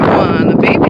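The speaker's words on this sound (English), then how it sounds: "This wind is gonna blow me away" Wind gusts steadily across a microphone outdoors on a nature walk among trees, a broad rushing roar with a voice over it.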